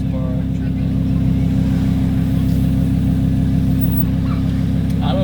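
Wide-body Lamborghini Huracan engine running loud and close, a steady, heavy low exhaust drone with a throbbing pulse and a few faint crackles near the end.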